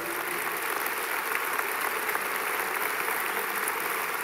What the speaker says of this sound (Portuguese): Vamos abençoar Jesus com um aplauso.